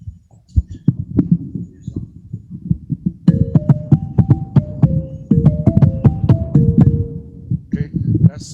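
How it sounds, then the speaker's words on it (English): Gourd-resonated xylophone from Ghana played in a quick run of bright wooden notes, with softer buzzy, thumping strikes before and after, heard up close over a murmur of background voices. "that's the sound of the gourd resonated xylophone."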